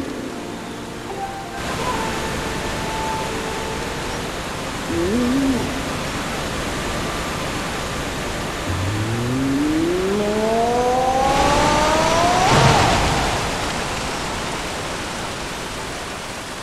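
Steady rushing roar of a waterfall in The Legend of Zelda: Skyward Sword fills the scene throughout, with a few rising game tones and effects sounding over the constant water noise.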